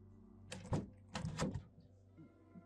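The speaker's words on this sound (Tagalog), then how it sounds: "Marahas niyang kinatok ang pinto." Someone hammers hard on a door, two quick clusters of heavy raps a moment apart, close and loud against a quiet room with no voices.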